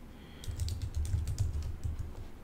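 Keystrokes on a computer keyboard while entering text, a quick irregular run of soft clicks at close range with no talking.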